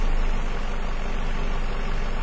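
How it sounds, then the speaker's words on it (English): A 2002 Ford Focus engine with a rough idle runs steadily during a cylinder drop test, giving a continuous low mechanical rumble with broadband noise and no voices. "There is definitely response from the engine on that."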